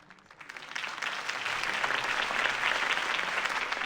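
Sustained crowd applause in a video game swelling from a few claps into a dense, steady roar of clapping hands, with no voices over it.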